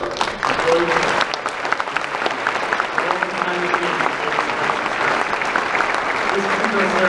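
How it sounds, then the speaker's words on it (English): Sustained applause from a ballroom audience at a formal Marine Corps Ball ceremony in Bangkok, honoring participants and color guards; dense steady clapping throughout, with faint voices mixed underneath. "Please join me in a round of applause for ceremony participants, color guards, employees."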